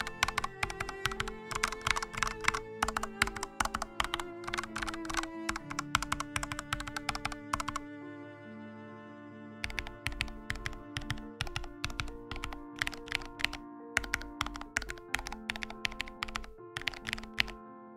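Buttons on a Sagaklabs Steelbox hitbox controller fitted with foam layers, pressed in fast clicky bursts and rapid tapping runs, with a short pause midway, close and alone.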